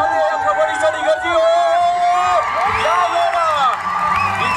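A packed crowd cheers and whoops continuously at a kabaddi grand final in Khed, Ratnagiri, Waghjai Kolkewadi versus Daspati of Chiplun, with dense shouting and babble, whistle-like yells and rising roars throughout.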